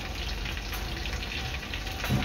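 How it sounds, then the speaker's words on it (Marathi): Bread pakoda deep-frying in hot oil gives a soft, continuous sizzle and bubbling hiss, steady and fairly quiet throughout. "तीन ते 4 मिनिटं आपल्याला दोन्ही साइडने चांगले क्रिस्पी तळून घ्यायचे आहेत।"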